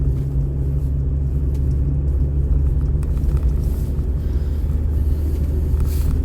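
A car drives along at steady speed, its engine and road rumble low and constant up close inside the cabin, with a brief lighter rustle partway through.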